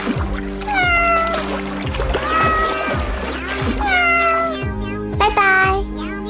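A cartoon cat meows in a comic Kannada cartoon, a series of loud, drawn-out rising-and-falling meows over a looping musical background with a rhythmic beat.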